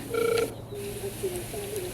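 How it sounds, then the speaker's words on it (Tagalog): A cellphone gives a short electronic ringtone, a brief melodic beep pattern near the start followed by fainter tonal notes, with a quiet indoor background and no clear talk. "Aghiringin ti cellphone na."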